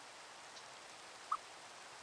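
Steady soft rain falls in a Minecraft-style video game world, a faint even hiss throughout with one tiny brief click partway through and no talking.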